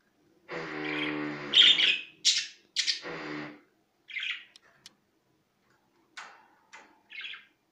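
Pet birds by their cage give a run of harsh squawks and short chirps, loud and close, in separate bursts with quiet gaps and no talking.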